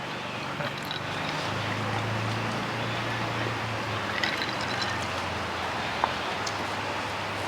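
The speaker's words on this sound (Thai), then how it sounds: "บรรยากาศฝนตก ตั้งเสียงฝน" Rain falls in a steady, even hiss, with a low hum underneath and a few scattered drips ticking now and then.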